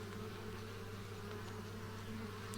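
Bees robbing a beehive at a reduced wooden entrance, a dense, steady buzzing hum of many insects filling the whole stretch at close range, with no voices.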